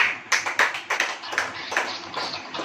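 A church congregation claps hands at a sermon in Hindi, a quick irregular patter of claps that is moderately distant and fairly faint, with no speech over it.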